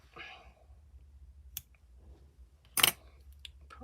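Scissors snip at greenery stitchery pieces in a quiet room, giving a couple of crisp, close clicks, one sharper and louder, with soft rustling between them.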